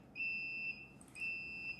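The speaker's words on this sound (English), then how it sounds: "Immediately you'll get a trouble signal" A fire alarm panel sounds its trouble signal after a smoke detector is disabled: two steady electronic beeps, each about half a second long, with a brief gap between them, clear and close in a quiet room.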